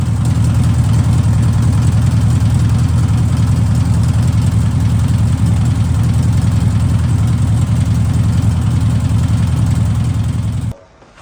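A 1964 Volkswagen Beetle engine, long left sitting and out of the car, idles steadily with a deep, low rumble, running loud and close for about ten seconds before cutting off abruptly.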